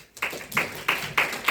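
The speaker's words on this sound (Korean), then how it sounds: "제가 교수님 앞으로 모실 때 여러분들 매번 그렇지만 큰 박수로 환영해 주시면 고맙겠습니다" An audience at a university unification-education lecture in Korea claps to welcome the lecturer, producing close, regular, evenly spaced claps about three times per second, with no voices.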